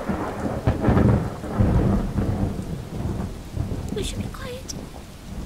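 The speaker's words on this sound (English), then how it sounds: "I spoke too soon about the thunder." Rolling thunder rumbles low and heavy over steady rain in a thunderstorm, as a voice quietly speaks beneath the storm.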